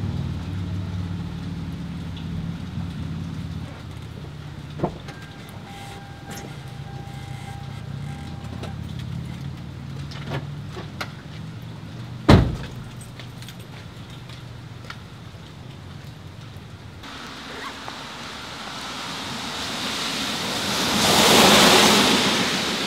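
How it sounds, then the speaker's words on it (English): Rain on a city street building into a heavy downpour, a steady wash of falling water that swells and grows loud toward the end, with a sharp knock partway through. "Okay, wow, it just started to downpour there."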